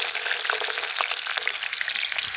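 Potatoes hitting hot oil in a wok, a loud, dense, continuous sizzle and crackle close by with no voices.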